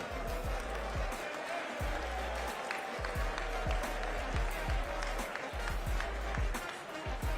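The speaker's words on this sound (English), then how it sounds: "Please give a round of applause to our friends in the state legislature." An audience in a large hall applauds New York state legislators during the governor's State of the State address, with dense, steady clapping that carries unbroken from start to finish.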